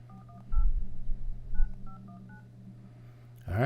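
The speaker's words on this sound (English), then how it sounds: "Let's load up this dialer. And we're going to dial in." A phone dialer sends a quick string of DTMF touch-tones over a steady hum, beeps in short bursts, followed by a louder noise at the very end.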